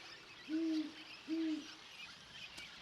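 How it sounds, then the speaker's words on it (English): Great horned owl on desert cliffs giving two deep, resonant hoots about a second apart, clear and fairly close against quiet background hiss. "Great horned owls share these cliffs."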